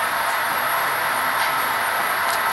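Model train running on a club layout at an open house, a continuous rolling rumble with faint wheel noise, steady and fairly loud throughout.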